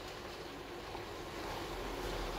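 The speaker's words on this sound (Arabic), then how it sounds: "هذا القانون تاعنا راهو يتقلى" Food frying in a pan, a broad steady hiss that keeps going and swells a little toward the end, with no voices.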